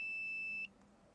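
A continuity tester gives a steady high-pitched electronic beep for over half a second while checking earth wiring on a MK2 Golf, then cuts off, leaving quiet background hiss.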